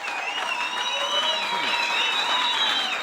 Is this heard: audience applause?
yes